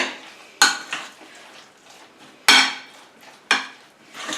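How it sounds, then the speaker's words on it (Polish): Spoon scraping and clinking against a bowl while stirring mayonnaise into a vegetable salad with tuna, in a few distinct strokes, a sharp knock each time followed by softer stirring, no voices. "Także dodajemy też majonezu tyle, ile lubimy, bo ktoś lubi więcej, ktoś mniej. Także mieszamy."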